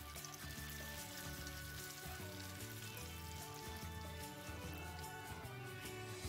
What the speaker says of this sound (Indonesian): Kita goreng tahunya.